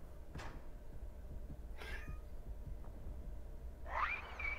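A few short, faint meows from a cat in the game Dead by Daylight, scattered across a quiet, noisy background, with a slightly louder rising cry near the end.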